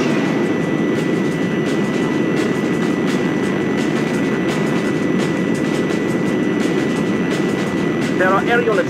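Enemy NPAF fighter jets chasing the player in a combat flight simulator, a steady loud engine roar filling the whole stretch with no breaks, a faint whistling tone riding on top near the end.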